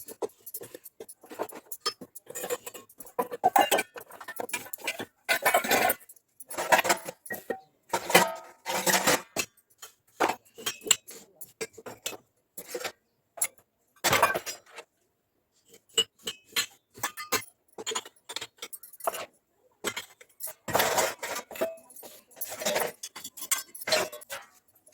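Metal kitchen utensils clink and clatter as they are arranged on shelves in a home kitchen, a steady run of close, irregular jingling knocks with brief pauses and no talk.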